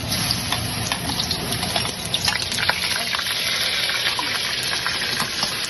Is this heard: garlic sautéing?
yes